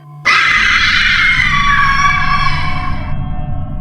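A loud, sustained scream from a girl in a Roblox horror story, rising sharply and holding for about three seconds before cutting off, alone with no talk.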